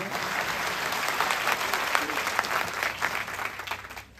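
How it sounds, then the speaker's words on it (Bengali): Audience applause fills the whole stretch, a dense, steady wash of clapping from a crowd that stays loud throughout and tapers slightly at the end. "ওদের জন্য একটা তালি দিয়ে দেয়"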